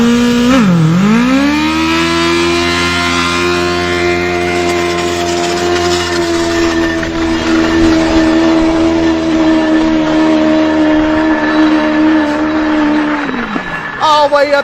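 A stock booster vehicle does a fourth-gear takeoff burnout, its engine roaring loud and close in a long sustained howl that dips briefly at the start, holds steady with tire squeal for over ten seconds, then drops away at the end.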